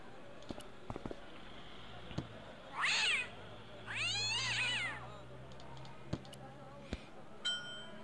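Cat meowing in the point-and-click adventure game Baphomets Fluch (Director's Cut): two drawn-out, wavering meows in quick succession, fairly loud and clear over a quiet game background with a few soft clicks.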